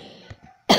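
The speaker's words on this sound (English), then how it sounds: "Sorry guys. For that coughing." A single loud, harsh cough bursts out near the end after a quiet stretch with faint background murmur.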